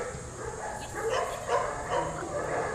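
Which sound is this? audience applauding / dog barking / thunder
dog barking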